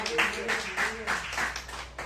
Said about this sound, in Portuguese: E aplauda o Senhor com o seu melhor.